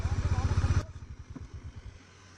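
A Bajaj Dominar 400 motorcycle engine idles with a steady low pulsing throb on a snowy road near Kufri, Shimla, loud at first and then dropping to a quieter chug.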